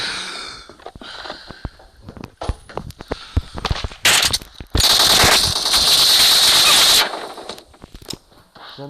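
Rapid bursts of automatic gunfire and single shots from PUBG Mobile play out with footstep sounds between them, swelling into a long, loud, dense barrage in the middle before thinning back to scattered shots.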